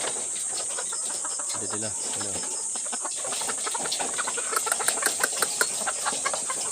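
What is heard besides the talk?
layer chickens clucking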